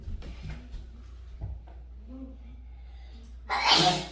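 A single loud sneeze bursts out near the end, after a stretch of quiet room tone with faint movement.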